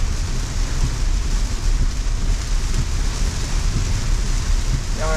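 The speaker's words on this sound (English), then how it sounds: "this is definitely a downpour. This is now heavy rain, above moderate." Heavy rain pours steadily on a Tesla driving through a downpour, a dense, loud, continuous hiss with low rumble from the car, no voices.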